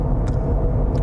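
Jeep Wrangler fitted with Currie Extreme 60 axles and new Yukon 5.38 gears, driving on the road during break-in: a continuous loud low engine and road rumble heard from inside, brief and steady.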